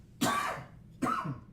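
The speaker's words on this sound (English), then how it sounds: "Sorry about the coughing." Two short, harsh coughs about a second apart, close to the microphone, with quiet in between.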